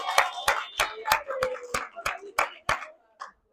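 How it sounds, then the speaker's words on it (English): A small audience gives a contestant a round of applause at a community college finance event, about ten distinct, spaced claps at a brisk rhythm, fairly close and fading out at the end. "Give her a round of applause."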